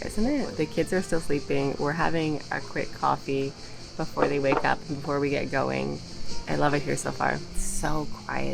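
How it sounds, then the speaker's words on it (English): Crickets chirp steadily and faintly in the early morning at a quiet seaside cove on Mljet Island, Croatia, a constant background trill heard beneath a person talking close by. "The only sound you can hear right now are crickets."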